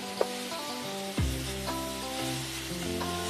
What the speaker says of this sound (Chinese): 将佢翻炒均匀